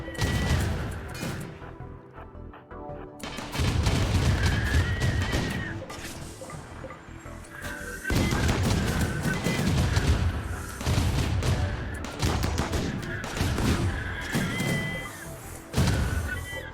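Gunfire in the video game RimWorld crackles in repeated bursts, loud thumps and rapid volleys coming in clusters with brief lulls between them, no talk heard.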